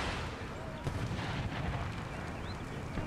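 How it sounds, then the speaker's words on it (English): Dull booms of mortar artillery fire in a siege battle of the strategy game Empire: Total War, rolling continuously under a busy wash of battle noise at moderate distance. "I can hear the mortars going"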